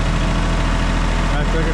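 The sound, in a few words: Kubota L3560 tractor engine running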